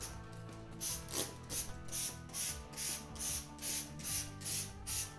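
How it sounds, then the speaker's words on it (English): A trigger spray bottle of cleaner mixed with dishwashing liquid is pumped repeatedly over a shower, its taps and chrome fittings, giving a steady series of about a dozen hissing spritzes, close and clear, with no talk. "Just give it a spray everywhere."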